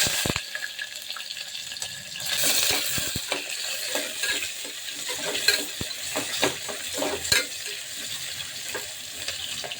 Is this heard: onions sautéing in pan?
yes